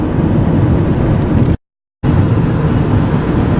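Steady broadband road and engine rumble from a car cruising on a highway at about 90 km/h near the Lang Lang turn-off, loud and continuous, cut by a brief half-second gap of silence midway.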